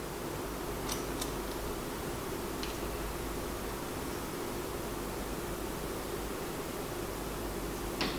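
Scissors snip through the fringe hair of a luxury wig, a few faint, sharp clicks over steady background hiss, with no talking.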